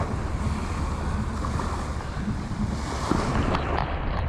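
Sea waves wash in at high tide near Sunny Bay, Hong Kong, a dense, continuous surf roar mixed with wind buffeting the microphone, steady and close with no voices.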